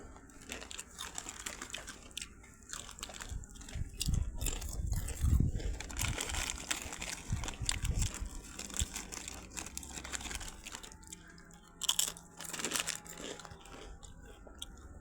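Potato chips from a small cheap packet are bitten and chewed close by, giving irregular crisp crunches in clusters with light crinkling in between. No one talks.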